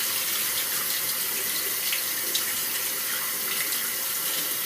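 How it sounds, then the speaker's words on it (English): Beans rinsed under a running kitchen tap, a steady loud hiss of flowing water splashing into a sink, continuous and close with no talking. "Give them a good old rinse."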